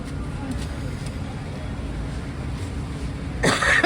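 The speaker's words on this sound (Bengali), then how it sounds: "বাবারে আমারও কাশি হয়ে গেছে" A single person coughs close by inside a car near the end, a short harsh burst over a steady low rumble of engine and road noise.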